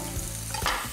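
Tomatoes sizzle in a hot pan in a brief, continuous, close fry, with a quick stirring scrape near the end and no voices.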